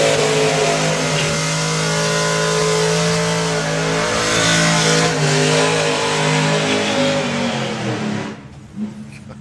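A supercharged outlaw drag racing car revs hard at a drag strip, its loud, harmonic engine note holding strong and steady before cutting off abruptly near the end.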